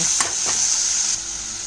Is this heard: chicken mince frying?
yes